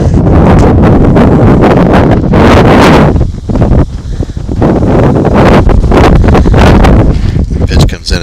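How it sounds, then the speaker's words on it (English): Strong gusts of roughly 30 mph buffet the microphone at a high school baseball game, a loud, rumbling roar that surges, briefly eases, then surges again, with a commentator's voice faintly underneath. "another 30-mile-an-hour gust blew through here"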